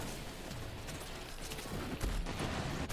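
Rapid automatic fire from the Just Kaus SMG in Borderlands 3, a dense continuous burst of gunshots running throughout and growing heavier near the end, loud and close with no talking.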